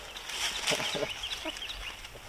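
A rooster crows faintly at a distance, a thin drawn-out call over outdoor background noise, with a few other bird chirps scattered around.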